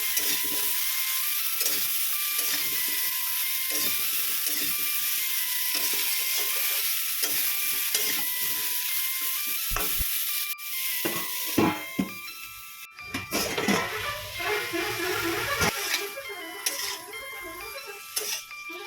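Cauliflower frying in a covered pan with salt and turmeric, a steady bright sizzle running throughout, then a clatter of the lid and stirring scrapes with clicks near the end, close by and without speech.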